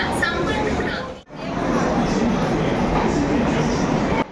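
A train rolls into a busy Indian railway station, a continuous loud rumble of wheels and carriages with a brief dip partway through, under a hubbub of crowd chatter and nearby voices.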